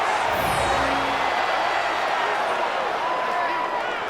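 A large video game football stadium crowd roars steadily throughout, a broad continuous wall of cheering with scattered shouts rising and falling.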